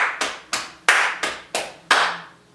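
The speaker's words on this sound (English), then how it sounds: "It's clap, pat, pat, clap, pat, pat, clap." Sharp body percussion pattern of hand claps and pats, six crisp hits in an even rhythm, close and loud with no voices.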